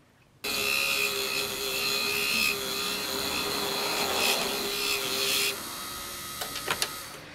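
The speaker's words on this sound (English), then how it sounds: "I am using the tyre raiser tyre lathe to turn these wheels down and make inserts" Tyre lathe turning down slot car wheels for a Carrera BMW 2002 model, making tyre inserts, with a steady whirring drone that stops abruptly near the end, followed by a few faint clicks.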